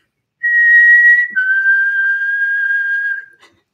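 A single person whistles a short tune, "The Savior's Whistle": one clear, loud sustained note, then a brief break and a long held lower note that trails off, with no talking around it.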